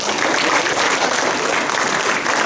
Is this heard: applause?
yes